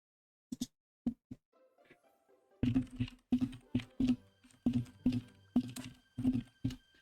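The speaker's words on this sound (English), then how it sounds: "Apologies for typing noises if that is heard on the microphone." Fingers tap a computer keyboard in bursts of crisp, close clicks; a few isolated keystrokes come first, then a quicker run of typing in a quiet room.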